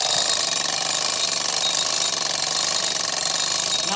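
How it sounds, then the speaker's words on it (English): An antique mechanical alarm clock rings continuously and loudly throughout, a harsh, dense metallic bell clatter with no pauses, heard close up. "let's trip this alarm, shall we?"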